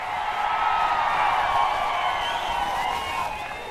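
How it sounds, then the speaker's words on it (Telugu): A crowd at a political meeting roars and claps together in a loud, sustained wave that eases slightly toward the end. "చప్పట్లు కూడా చెప్పండి."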